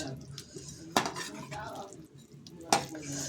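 Fish pieces being flipped in a cooking pan of medium gravy, with two sharp metal clinks of utensil against pan amid soft scraping and sizzling, close by.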